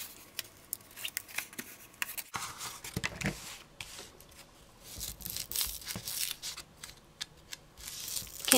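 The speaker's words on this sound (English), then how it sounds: "Can even use a pair of scissors and kind of get underneath there to lift off some of it." Scissors snipping and scraping under the paper layer of corrugated cardboard to lift it off, a run of close, quiet crisp clicks and tearing scratches with irregular rhythm, no talking.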